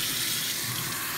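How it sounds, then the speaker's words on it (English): Water pours steadily from a household tap into a sink, a continuous broadband hiss and splash running throughout at close range, used to flush a Tefal Steam Cuisine 600 vegetable steamer. "Put the tap on"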